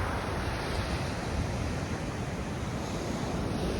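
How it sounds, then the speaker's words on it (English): Surf from a groundswell rolls onto a beach at night during a big spring tide, a steady broadband wash of breaking waves with some wind noise, continuous and moderately loud with no voices. "There's quite a bit of groundswell tonight, so there is some surf"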